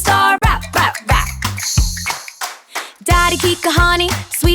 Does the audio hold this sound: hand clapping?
yes